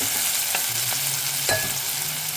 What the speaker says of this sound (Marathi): हे आता पुन्हा एकदा मी छान असं परतून घेते.